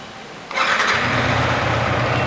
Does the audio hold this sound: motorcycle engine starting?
yes